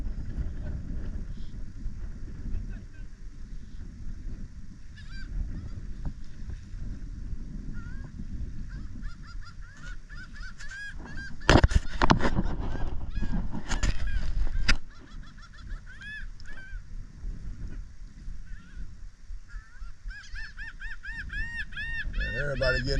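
Seabirds call around a fishing boat off Corpus Christi, Texas, as repeated honking cries over wind and engine noise, with a loud gusty burst partway through and the calls growing busier near the end.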